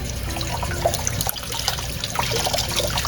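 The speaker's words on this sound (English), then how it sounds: "I just want to rinse your piggy." Running water pours and splashes steadily while a guinea pig is rinsed off in its bath, like a close tap flowing without a break.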